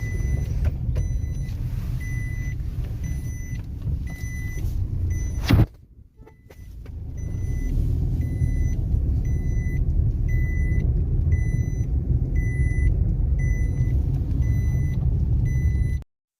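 A car on the move gives a steady low engine and road rumble that dips sharply for a moment midway, with a faint repeating electronic tick running throughout.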